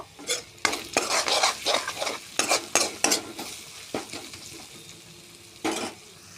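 Paneer masala with coriander and cumin powder is stirred in a pan, a spoon scraping and clattering in irregular bursts over a soft sizzle, close and fairly loud with short pauses between strokes.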